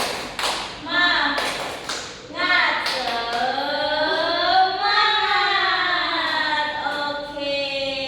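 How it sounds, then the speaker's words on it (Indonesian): A class of children does a rhythmic spirit clap in a classroom, with sharp claps spaced through a loud, sustained group chant close by. "1, 2, 3, tepuk semangat"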